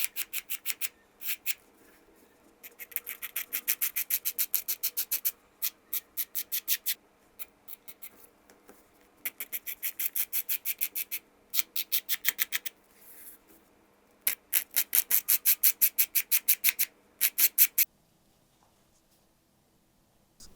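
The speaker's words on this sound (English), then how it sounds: "First, roughen the leather surface for better glue adhesion." Leather being roughened by hand for glue adhesion while assembling a men's bifold wallet, heard as repeated bursts of quick, close rasping strokes separated by short pauses, with no talking.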